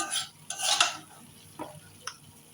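Fish going into a spiced mixture in a pan with mustard oil and being stirred, heard as a few bursts of soft sizzling and utensil scrapes separated by quieter gaps.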